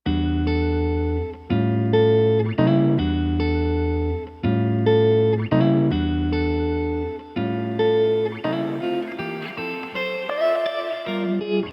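A jazz sample chopped up for a hip-hop beat plays alone, short looped chord stabs with sustained tones cut off in abrupt rhythmic breaks, loud and upfront with some effected warble.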